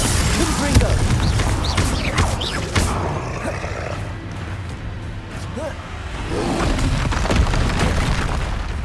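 A Confringo fire spell blasts off in Hogwarts Legacy, a booming explosive burst heard near the start, amid ongoing combat rumble and other spell impacts throughout.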